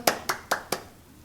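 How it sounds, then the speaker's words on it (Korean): Youth group at a church clapping together in unison, four crisp, evenly spaced claps that ring out clearly in a quiet room and then stop. "우리 힘겨운 시험 기간을 보낸 친구들 서로를 위해서 박수 한번 칠까요?"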